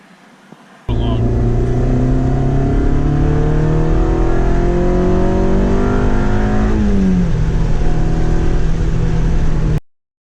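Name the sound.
Honda car engine accelerating during a pull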